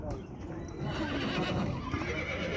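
A horse neighs at a livestock market in Kyzylorda, a loud close whinny among crowd noise and hoof sounds, with people talking throughout.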